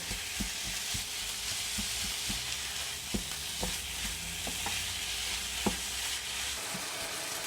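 Ground meat browning in a pan for Okinawa taco rice, a steady close sizzle with occasional soft scrapes and taps of a utensil stirring through it.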